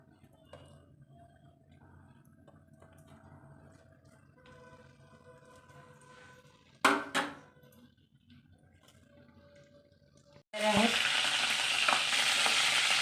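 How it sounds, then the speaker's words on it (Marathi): After a quiet stretch with a couple of clinks, chillies hit hot oil for tempering and a loud, continuous sizzle erupts and keeps crackling. "आता फोडणीसाठी आपल्याला मिरच्या टाकायच्या आहे"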